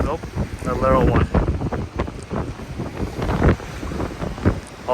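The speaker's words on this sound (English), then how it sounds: "Okay, the waves are coming in." Ocean waves rolling in along the Oregon coast, a broad continuous wash and rumble with wind buffeting the microphone and a person talking over it.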